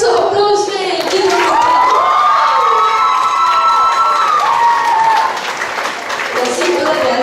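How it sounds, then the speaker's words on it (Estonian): Audience at a school playback show applauding and cheering, loud, dense clapping with shouts and children's voices, sustained throughout and easing slightly toward the end. "Aga okei, aplaus veel."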